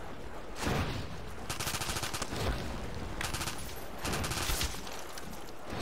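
SMG gunfire in Garry's Mod Call of Duty zombies rattles out in several rapid bursts separated by brief gaps, loud and sharp against a dense game background.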